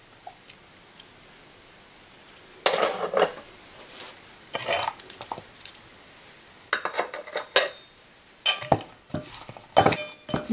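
A spoon clinks and scrapes in a bowl while salt, sugar and baking soda are mixed dry, in several short bursts of close clattering separated by quiet pauses.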